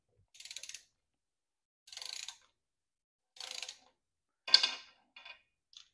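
Ratcheting wrench with an extension snugging the mounting bolts of an Ultra Prop direct-drive propeller: four separate bursts of quick ratchet clicks with short pauses between them, then a louder metallic clack and a couple of faint trailing clicks.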